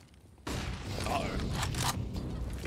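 A grenade goes off in a Counter-Strike match on the Inferno map, a sudden loud blast followed by rumbling debris and scattered gunfire clatter, with a commentator's voice faintly underneath.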